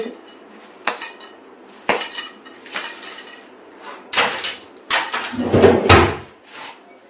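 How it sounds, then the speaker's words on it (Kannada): A small metal oggarane tempering pan for seasoning is picked up and set down, giving about half a dozen sharp clanks and knocks at irregular intervals, close and fairly loud, with no talking. "ಇದು ಒಂದು ಒಗ್ಗರಣೆ ಸೀಸನಿಂಗ್ ಪ್ಯಾನ್ ಅಂತ ಹೇಳ್ತಾರೆ"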